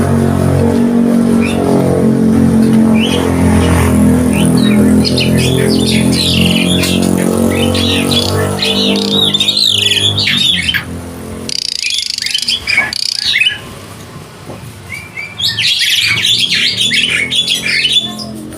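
Caged birds kept at a house squawk and chirp repeatedly, loud and close, their harsh calls coming in clusters over a constant background hum, with brief quieter gaps partway through.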